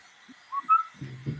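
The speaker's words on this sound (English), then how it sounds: "I didn't mean to whistle" A person whistles a few short, wavering high notes close by in a garage on a rainy day, faint and brief, ending under low muffled thumps.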